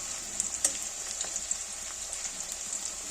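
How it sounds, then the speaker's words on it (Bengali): Onions frying in a pan for a home-style chicken biryani, a steady soft sizzle with faint crackles and pops, close and alone without voices. "এবার পেঁয়াজগুলো আমি একটু ভেজে নেব"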